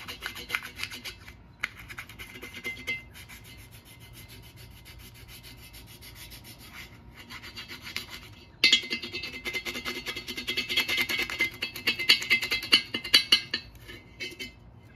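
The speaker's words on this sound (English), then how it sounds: "You just grab a screwdriver and go to work." A screwdriver scrapes masking tape off a car rim before spray painting, producing quiet, rapid rubbing strokes at first, then louder, harsher scratching bursts close to the microphone.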